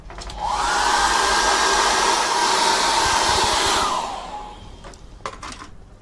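A hair dryer blows on wet acrylic paint in a loud, steady whoosh for about three and a half seconds before winding down, followed by a few light clicks.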